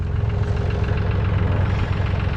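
A tractor fitted with a backhoe idles nearby, a steady low rumbling throb that runs unbroken and fairly loud, with no talk over it.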